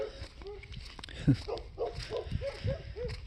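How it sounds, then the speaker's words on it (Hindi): A dog in farm fields in Italy barks hoarsely, as if choking, in a quick series of rough, strained yelps at moderate distance against a quiet outdoor background. "एक कुत्ता है वो ऐसे भौंकता है जैसे"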